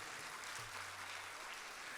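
Steady applause from a crowd of mothers at a Hindi devotional discourse during the 2022 Raipur Chaturmas, a dense even wash of clapping that holds for the whole moment, with a faint low hum beneath.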